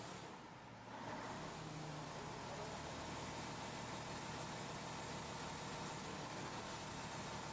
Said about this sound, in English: When the speed lamping volume is set at 5 o'clock maximum value, the engine reaches the rated speed very slowly.